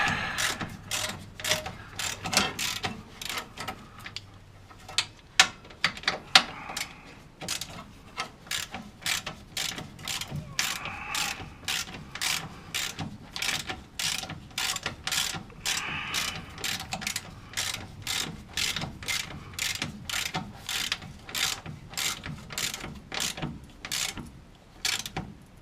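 A socket ratchet clicks rapidly and steadily in a long run of bursts while a long bolt is driven down in a tight spot under a wasteland project car, close up with no talk.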